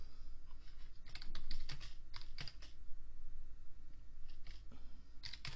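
Computer keyboard typing in bursts of quick key clicks, fairly close and steady, with short pauses between runs while text is entered into an Excel 2010 form; no voices.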